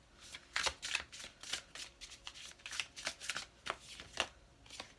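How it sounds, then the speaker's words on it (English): Oracle cards shuffled by hand for a tarot-style reading, a soft, close series of riffling and slapping bursts in an uneven rhythm, quiet and alone with no talk. "I'm going to pull some oracle cards as well."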